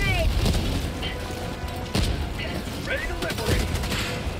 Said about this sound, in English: Wow, that is a lot of grenades for one walker, dude.